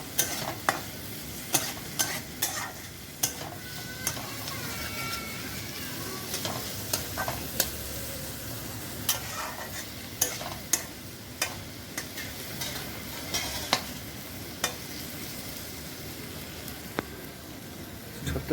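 Chhatu mushrooms fry in a pan while being stirred for a mushroom curry, with a constant close sizzle broken by regular sharp scrapes and knocks of the spoon against the pan.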